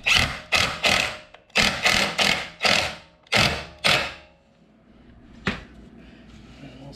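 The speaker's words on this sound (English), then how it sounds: "Get our first screw thrown in." A screw is driven into a boat trailer bunk with a power driver, giving about ten short loud whirring bursts in quick succession, then a pause and one final sharp burst.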